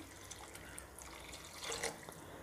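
Water runs and splashes as a cup is poured into tamarind-based vatha kuzhambu, a Tamil sundakkai curry, with a steady trickle that swells briefly near the end.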